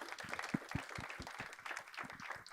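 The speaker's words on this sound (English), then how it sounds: "give another round of applause to Sister Carol" Scattered, fairly faint hand claps from a modest outdoor crowd at a groundbreaking ceremony, irregular and uneven rather than a full ovation.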